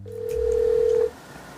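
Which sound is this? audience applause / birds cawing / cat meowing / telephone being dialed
telephone being dialed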